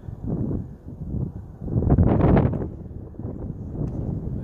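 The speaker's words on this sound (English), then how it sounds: "Forgive me if it's a little bit windy." Wind gusting across a microphone at a desert trail overlook, a low steady rumble that swells briefly and then settles, close and fairly loud with no other sounds.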